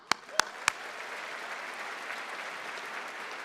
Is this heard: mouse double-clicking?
no